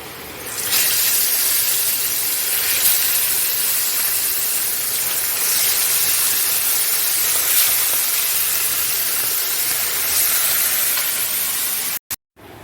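Loud, continuous sizzling and hissing of fish frying in hot oil in a wok, steady for several seconds with no voices.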